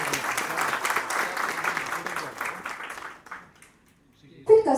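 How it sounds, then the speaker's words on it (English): Audience applause at a corporate event, steady dense clapping for about three seconds before fading out, followed by a brief sound at the end. "Give a round of applause to"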